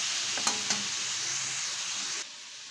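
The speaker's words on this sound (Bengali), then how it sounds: "এইভাবে চিকেন দিয়ে এটাকে ভেজে নিতে হবে" Steady bright sizzle of chicken frying in a pan over low-to-medium heat, with a couple of short clinks early on, the hiss dropping abruptly near the end.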